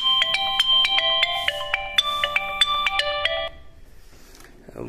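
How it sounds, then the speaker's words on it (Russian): A melodic telephone ringtone plays loudly in an apartment, a repeating series of bright electronic notes for about three and a half seconds before stopping, followed by quiet room noise. "Вот, вот люди уже звонят, похоже."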